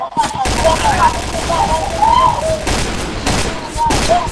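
Rapid gunfire bursts in a clan-war shooter game, loud and continuous over several seconds, with excited voices shouting over it.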